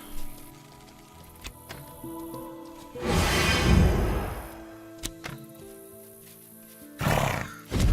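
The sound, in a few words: horse neighing in the video game Mortal Online 2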